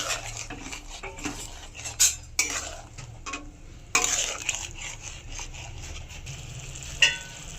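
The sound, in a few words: green peas added to a frying pan and stirred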